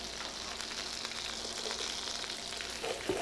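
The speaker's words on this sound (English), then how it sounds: "the first thing that we're gonna do is we're gonna toss in our garlic" Garlic sizzles in a hot pan in a home stir fry, a soft, steady hiss and crackle with faint stirring clatter near the end, no talk.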